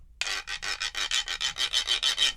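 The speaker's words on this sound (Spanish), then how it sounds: "La música de la popular danza del venado, de los instrumentos principales es este raspador." A mesquite wood raspador, the notched scraper of the deer dance, rubbed alone in about fourteen steady back-and-forth rasping strokes, close and fairly loud with no voices.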